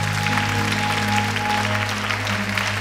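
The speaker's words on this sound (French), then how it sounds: "Applaudissez le Seigneur" A church congregation claps for the Lord during a worship service, continuous close clapping over sustained organ or keyboard chords.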